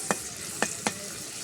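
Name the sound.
prawns frying with salt in a pan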